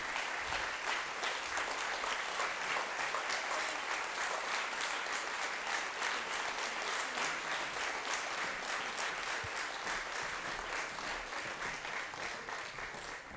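A sustained round of audience clapping at a choir concert, many hands beating densely and evenly for the whole stretch, tapering slightly at the very end.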